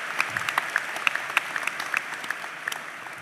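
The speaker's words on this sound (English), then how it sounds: "Let's give ourselves a round of applause." Graduating class of 2025 claps for itself at a university commencement ceremony, a steady patter of many hands spread through a large hall, continuous and moderately loud with no voices over it.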